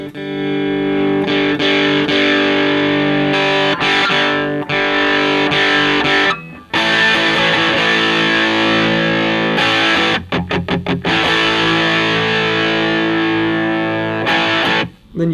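Electric guitar played through a DIY stacked EQ distortion pedal with a touchy gain control, loud sustained distorted chords with a few brief choppy stops and rhythmic chugs, no talking.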